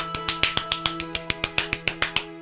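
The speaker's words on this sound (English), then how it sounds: "We're partying. Everyone's clapping." In-game crowd clapping from a Zelda randomizer game combining six Zelda titles, heard as a regular series of sharp, crisp claps about five per second over a steady synthesized music tone.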